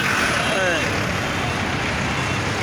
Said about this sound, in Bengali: এই একটা মনে হয় বাস ঢুকছে